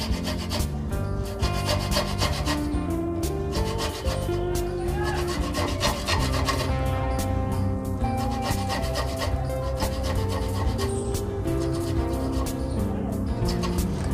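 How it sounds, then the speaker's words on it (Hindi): Boiled, cooled amla (Indian gooseberries) rubbed against a kitchen grater, a steady rhythmic rasping scrape repeating close up throughout, with faint talk in the background. "आंवले ठंडे हो गए हैं, अब इन्हें हम कद्दूकस कर लेते हैं।"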